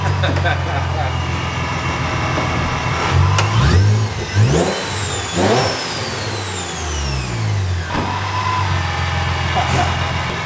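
A Nissan 350Z engine revs up and down repeatedly, with a rising high-pitched supercharger whine sweeping upward during the revs, loud and close, people talking over it.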